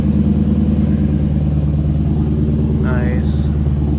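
A Lexus GS430 V8 idles steadily with a newly finished exhaust, a low, even rumble close by that continues throughout, with a brief faint higher tone near the end.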